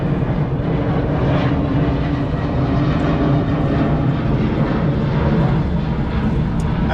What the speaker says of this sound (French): Terrible ces avions.